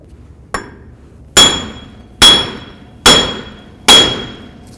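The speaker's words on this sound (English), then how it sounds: "when I smack this with a hammer to get this off" Four loud, evenly spaced metallic hammer strikes on a front wheel bearing of a Jeep Cherokee, with a bright ringing tail, preceded by a lighter tap, close up with no talking.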